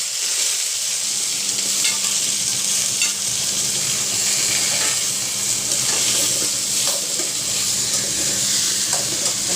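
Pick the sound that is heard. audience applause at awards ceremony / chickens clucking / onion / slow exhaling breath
onion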